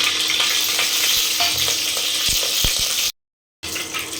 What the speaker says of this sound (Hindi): बर्तन गरम हो गया है, तो मसाले को डाल देते हैं।